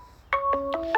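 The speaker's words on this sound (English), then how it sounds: "Excuse the phone, they're obviously trying to get hold of me" A phone rings beside a parked 2014 Nissan Micra, a short bright electronic ringtone of several rising beeps, loud and close with no talk.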